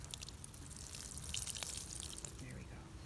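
Water splashes and drips steadily onto container garden plants, including mustard greens, in a soft continuous trickle with faint background noise.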